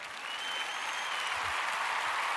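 Steady applause sound effect, a dense wash of clapping hands that holds evenly from start to finish at moderate volume, with no voices over it.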